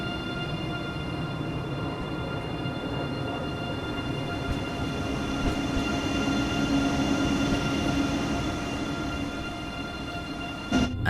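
A BR 406 ICE high-speed train pulling out of a station in Train Sim World 2, with a steady rumbling drive and rail noise that builds slightly over time, and a brief louder clatter near the end.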